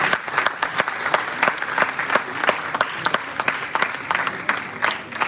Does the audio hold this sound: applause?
yes